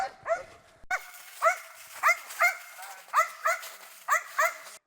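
Service dog barking during military training, a series of sharp close barks and yips in irregular bursts, some in quick pairs, with short gaps of near silence between.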